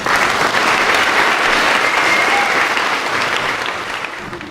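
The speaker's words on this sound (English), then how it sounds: "One more round of applause" Sixth grade leaders at a school graduation ceremony receive a round of applause, a thick, sustained crowd clapping filling the hall evenly before gradually tapering off.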